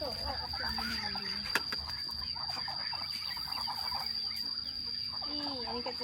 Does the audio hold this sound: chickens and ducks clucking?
yes